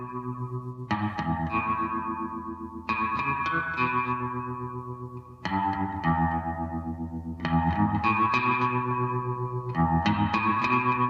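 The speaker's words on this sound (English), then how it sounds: "The use of both tremolo and very heavy reverb effects on the guitar, along with playing a semi-hollow body guitar with a Bigsby vibrato arm" Twangy semi-hollow electric guitar with a Bigsby vibrato arm, played in a slow melodic line, each note pulsing with tremolo and washed in very heavy reverb that rings out between phrases; loud, close and purely instrumental.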